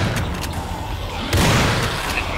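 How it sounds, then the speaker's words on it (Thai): Explosion in the shooter video game Dead Effect 2, a sudden loud boom partway through that rises over a steady rumble of game noise and scattered clicks. "เป็นระเบิด"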